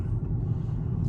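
A Dodge Charger RT cruising at about 35 mph, heard from inside as a steady low engine and road rumble, close and continuous through a short moment with no talking.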